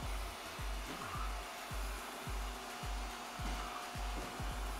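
An Ecovacs Deebot N79S robot vacuum cleaner runs at maximum suction with a steady, fairly quiet whirring hum, broken by soft regular ticking or brushing clicks and heard with no talking.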